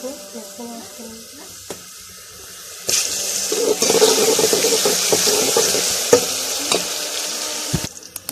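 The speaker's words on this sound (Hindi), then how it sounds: "प्याज मेरा ब्राउन हो गया, मैं इसमें लहसुन ऐड करूँगी।" Browned onion with garlic just added frying in a pan for plain lassi kadhi; a steady close sizzle rises sharply about three seconds in, broken by scattered clicks of stirring, with no talk.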